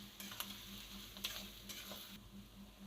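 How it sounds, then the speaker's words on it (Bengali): Onions and chopped capsicum fry in a pan, a soft steady sizzle with occasional stirring scrapes and a low hum beneath, fairly quiet throughout. "এই পেঁয়াজের মধ্যে আমি কাটা ক্যাপসিকামগুলো দিয়ে দেবো। তাহলে পেঁয়াজ আর ক্যাপসিকাম সাথেই ভাজা হয়ে যাবে।"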